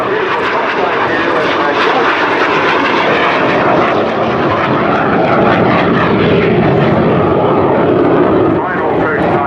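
Aircraft engine roar sustained and loud at an air day at RNAS Culdrose, a single-exhaust jet type passing overhead, with a crowd and voices underneath throughout.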